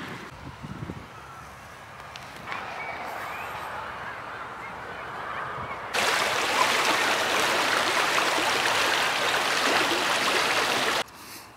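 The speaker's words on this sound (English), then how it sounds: "there's a river, it's a brook that runs along the bottom" A brook running along the bottom of a housing development, heard outdoors on a cold day as a steady broadband rush that starts fairly faint, then surges much louder and fuller for about five seconds before cutting off.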